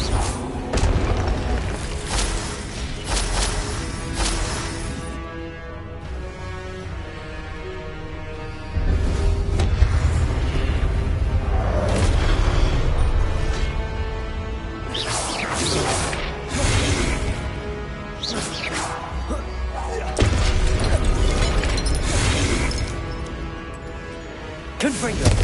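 Heavy booming blasts and whooshes from Confringo fire spells in the Hogwarts Legacy video game go off repeatedly, loud and close, with crashing debris and a voice shouting between them.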